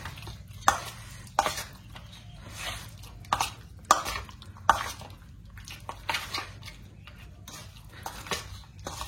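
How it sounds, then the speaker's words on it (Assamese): Raw chicken is worked through a marinade in a bowl by hand, giving soft, wet stirring with scattered sharp clinks against the bowl, close and fairly quiet, with no talking. "চিকেনখিনি দি লৈ আমি এনেকৈ ধুনীয়াকৈ ইয়াতে মিলাই দিব লাগিব"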